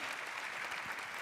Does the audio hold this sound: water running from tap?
no